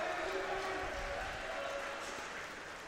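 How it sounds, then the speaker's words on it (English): A crowd claps and cheers at a fencing competition in the top-16 round of the Flemish Open: dense, steady applause across the whole stretch, fading slightly toward the end. "cheering, applauding."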